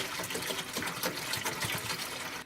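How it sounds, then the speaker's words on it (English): Apple cider gushes as it is poured into a large stock pot, a steady close splashing fill that continues without a break. No one speaks over it. "Let's go ahead and add all the apple cider to our large"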